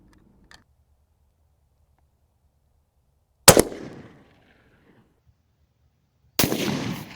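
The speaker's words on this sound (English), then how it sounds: "So I'm going to be shooting the EP1 127 grain prototype round." A 6.5 Creedmoor EP1 127-grain prototype round fired at a BZ-rated side plate: one sharp, loud gunshot with a short decaying tail, followed a few seconds later by a second loud report, with near silence between.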